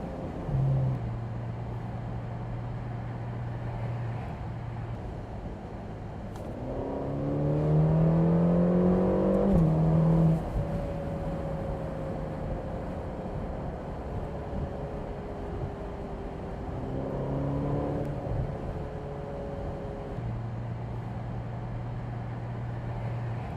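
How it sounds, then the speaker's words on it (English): Turbocharged Ferrari engine accelerating through a tunnel, a steady drone that swells into rising revs and gear changes, then eases and climbs again, loud and enclosed with no talking. "this sounds amazing for a turbo car"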